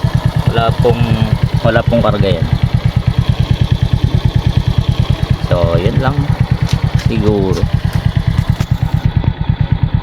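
A six-year-old motorcycle with a GM diaphragm carburetor and no engine modifications idles in a steady, close, even putter throughout, while someone talks over it.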